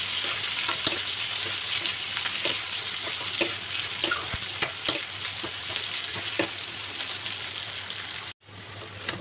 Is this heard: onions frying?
yes